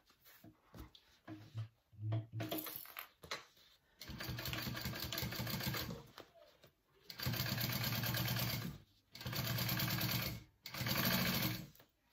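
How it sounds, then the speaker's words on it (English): A sewing machine top stitches along a crossbody wallet pocket in several steady whirring runs of a few seconds each, separated by short pauses and handling noise. "now I'm going to top stitch along the top part here, which will catch this pocket back here and close it up"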